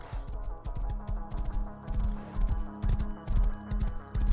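Horse galloping in the video game Rust, rapid rhythmic hoof clip-clops up close, steady and repeated throughout.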